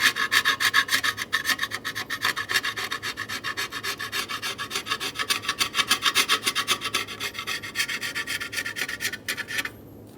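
Razor blade scraping old gasket material off the mating surface of a 2003-2008 Honda Pilot valve cover, a close, rapid run of rhythmic rasping strokes that continues steadily and then stops abruptly.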